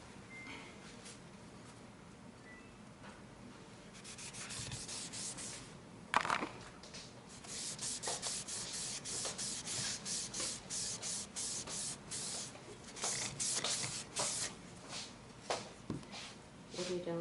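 A wooden table being sanded along the grain, a steady scratchy rubbing that builds in strength with sharper scrapes and knocks, while people talk over it.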